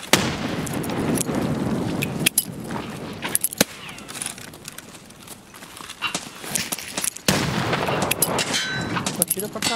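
Gunfire in the Escape From Tarkov video game on the snowy Customs map, sharp shots cracking out at intervals over crunching movement and ambient noise, with players talking in Portuguese.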